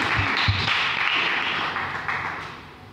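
A church congregation claps together, a dense burst of hand claps opening with a few sharp thumps, then a steady patter that gradually fades over a few seconds.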